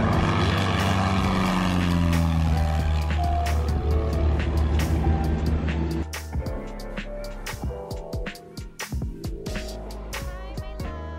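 A Piper Archer light aircraft landing at a Batangas airfield, its propeller engine droning loudly and steadily, then easing to a lower, uneven rumble with clicks and knocks nearby; no talk.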